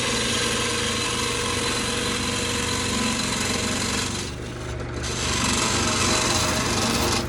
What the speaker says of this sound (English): Now I'm switching back to my skew chisel and trying to shape the top of this lid a little more flat across there.